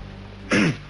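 A man coughs once, a short loud burst, in a Spanish television studio setting, standing alone against a quiet background hum.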